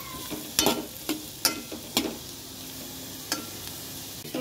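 Beetroot softening in hot oil in a pan, with a steady low sizzle and several sharp spoon-stirring scrapes at irregular intervals, close by and with no talking.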